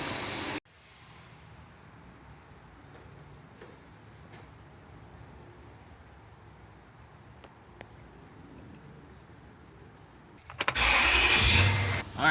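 A car engine idles with a steady, low rumble while its cooling system is being bled, then a much louder, broadband burst of noise takes over for the last two seconds.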